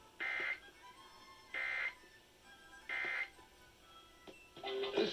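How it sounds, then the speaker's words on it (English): A radio station's Emergency Alert System test sends three identical shrill electronic data bursts, each about half a second long, evenly spaced with silent gaps, followed by a brief rougher noise at the end. "The following is a test of the EAS."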